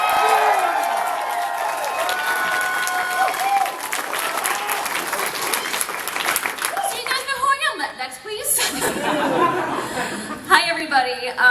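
A convention audience at BronyCon bursts into loud applause and cheering, mixed with laughter and chuckles, which fades before a few scattered claps and cheers pick up again near the end.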